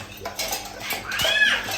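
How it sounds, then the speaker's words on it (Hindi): Broken ceramic plates and metal dishes clatter and clink as they are handled in a village home, a few sharp knocks and scrapes close by with a voice faintly in the background. "ये टूटे हुए बर्तन इधर"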